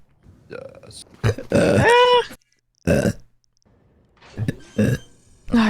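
A young woman burps loudly several times, the burps drawn-out and tonal, separated by short pauses and brief bursts of talk.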